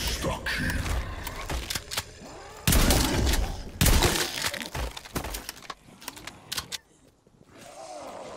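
Shotgun blasts from Call of Duty: Black Ops Cold War. Several loud, sharp bursts are fired among other game effects, and the level drops near the end.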